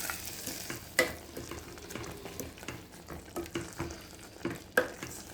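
A pan of chena kaaya erissery, a yam curry, being stirred with a spoon: close, soft scraping strokes with a few sharper clinks, set over a steady low sizzle and no speech.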